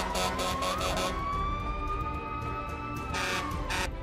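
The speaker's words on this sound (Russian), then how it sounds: "смотри, как скорая пролетела!" A cartoon ambulance siren wails past in a rising and falling tone, loud and steady over background traffic noise, with a few short bursts of sound around it.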